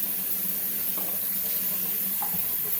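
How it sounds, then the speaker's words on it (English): Running water from a tap washes plastic residue off a sanded harmonica comb from a Suzuki Sirius bass harp, a steady close hiss and splash throughout. "I'm going to wash this to get the plastic off."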